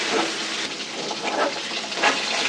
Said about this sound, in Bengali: এই যে আমি এখন মাছটা ভেজে নেব